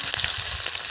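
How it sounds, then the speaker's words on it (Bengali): Nigella seeds and green chillies dropped into hot oil, giving a bright, crackling sizzle with quick spits and pops, loud and close. "তেলের মধ্যে দিয়ে দিচ্ছি কালো জিরে"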